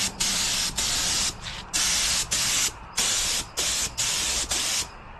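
Loud, continuous hissing bursts of an aerosol spray paint can painting a drift quad bike, pulsing on and off in a series of long sprays with brief gaps.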